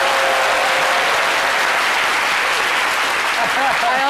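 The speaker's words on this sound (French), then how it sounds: "Applaudissez-vous quand même" Loud, dense studio audience applause on a French midday talk show about love, a continuous close roar of clapping that holds steady throughout.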